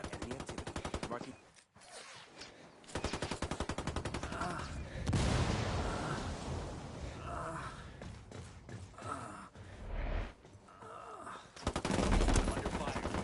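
Rapid automatic gunfire in Ghost Recon Wildlands bursts in dense, rattling volleys during a firefight, with brief pauses between bursts and a squadmate's voice cutting in now and then.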